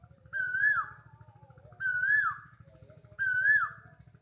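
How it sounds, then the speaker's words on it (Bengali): At night a koel repeats its rising whistled call three times at an even pace. The calls are clear and fairly close over a low, steady rumble. "দেখেন কোকিল কত সুন্দর করে ডাকতেছে"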